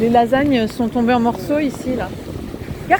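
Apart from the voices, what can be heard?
No distinct noise like a dog, phone or traffic.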